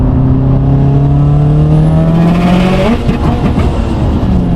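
A car engine with a stock motor and short shifter revs loud and close after a missed gear shift, its pitch climbing steadily to a peak and then breaking into a rough, fluttering drop.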